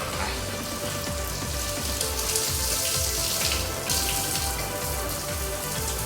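Water sprayed over a 1965 Ford Mustang GT convertible during a leak test makes a steady, loud hiss and patter, like heavy rain drumming on the car body, continuous with no talk.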